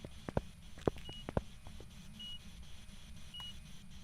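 Short electronic beeps from ghost-hunting equipment in the horror game Phasmophobia, a few faint tones over a low, steady background hum with no talking.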